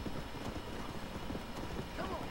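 Horse hooves clip-clop at a steady trot in the Red Dead Redemption video game, moderately loud, with someone talking over the hoofbeats.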